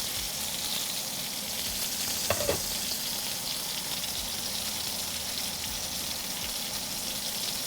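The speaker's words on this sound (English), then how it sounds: "Stir the zuppa." A spoon stirs creamy mushroom soup in a pot with a soft, steady bubbling sizzle throughout, quiet and close. One brief scrape of the spoon comes near the middle. Nobody talks.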